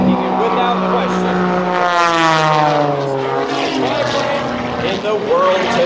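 Sean D Tucker's light aerobatic propeller plane, about 1,225 pounds with more than 400 horsepower, roars loudly at an airshow, its engine pitch sweeping and shifting as it maneuvers, while a commentator talks over it throughout.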